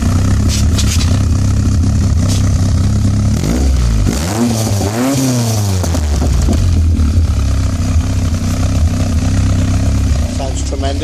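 Robin Hood kit car with a 2.0-litre Ford Pinto engine and 4-into-1 race manifold, a loud close rumbling idle that climbs through a couple of sharp revving blips and falls back to a steady deep idle.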